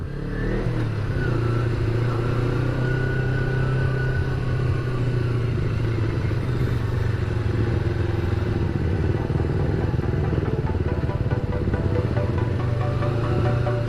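A Kawasaki W175 motorcycle engine drones steadily while riding, with a constant low rumble and rushing wind, no pauses throughout.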